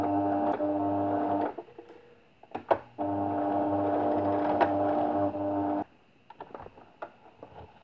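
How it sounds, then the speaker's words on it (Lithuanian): A sewing machine sews a seam with backtacking: two long steady whirring runs split by a short pause with clicks, then the motor stops and light handling clicks follow, no talk. "Susiuvam su užtvirtinimais."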